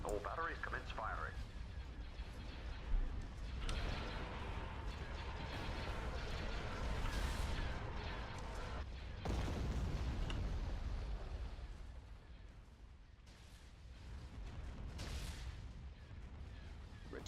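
Star Destroyer turbolaser batteries fire in a Star Wars space strategy game, a dense roar of overlapping blasts and booms rumbling on and off at moderate loudness, with a voice speaking over part of it.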